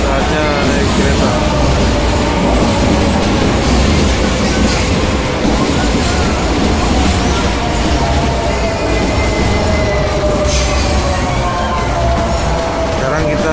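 A train rumbles and rattles continuously nearby in Spain, with rising metallic squeals of wheels on rails and voices talking underneath.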